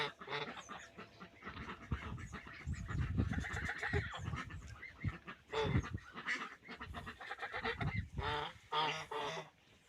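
Domestic farmyard ducks, two hens and a drake, quacking close by in a busy, overlapping stream of calls that goes on without a break and stays fairly loud throughout.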